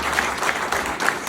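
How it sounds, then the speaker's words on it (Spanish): A crowd applauding at a class session, a short burst of dense, steady clapping from many hands. "Un aplauso para García Carneiro"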